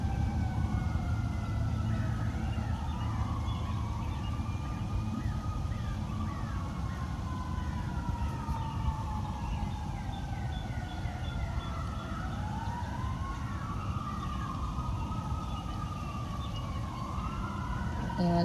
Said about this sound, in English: I still hear the sirens growing in the background